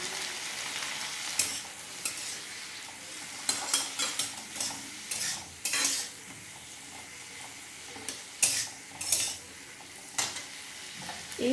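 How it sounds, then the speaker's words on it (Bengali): Chicken masala spices with turmeric and salt fry in a pan and are stirred, giving a soft sizzle with repeated scraping strokes and clinks at an irregular rhythm, no talking. "এই মশলাটা ভাজা হয়ে গেলে আমি এটা মিক্সিতে ভালো করে পেটে নেব।"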